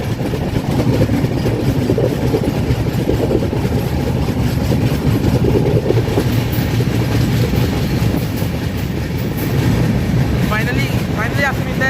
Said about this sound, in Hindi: अब हम लोगों की ट्रेन पहुँच रही है गया से पहले का कुछ नज़ारा आप लोग देख लीजिए